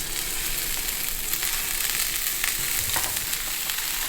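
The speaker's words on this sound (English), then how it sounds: "take the time to brown some meatballs on 8 sides and have the crispiest meatballs of all time" Meatballs brown in a little oil in a hot pan, producing a dense, even, close-up sizzle that holds steady throughout, with faint stirring and no voices.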